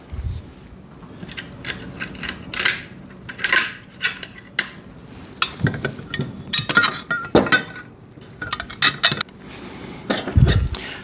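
Metal bolts clink and rattle against the steel frame of a foldable VEVOR welding table as they are pushed through its triangular holes, a close series of irregular sharp metallic knocks with short pauses between them.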